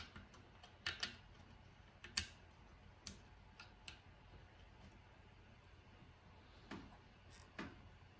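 A LEGO Outland TIE Fighter model being handled as its landing gear folds in, with scattered small plastic clicks and taps, some in quick pairs, over a quiet background.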